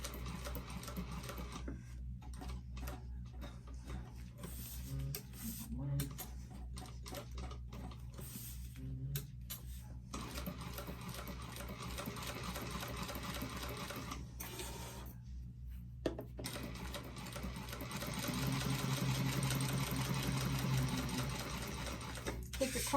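An industrial sewing machine stitches a bag in a steady mechanical whir, running in stretches and pausing between them, with someone talking throughout.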